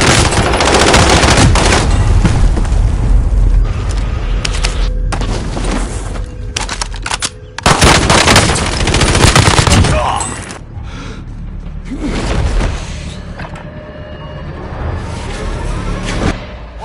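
Machine gun fire in Call of Duty: Warzone on PS4, loud sustained bursts mixed with booming impacts and mechanical clatter, with a brief lull before the shooting resumes and some game voices heard under the shooting.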